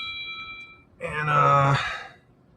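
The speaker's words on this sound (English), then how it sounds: "somebody chiming in on the old phone" A phone notification chime rings once, a bright tonal ding rising out of near silence and fading over about a second, with faint high tones before it.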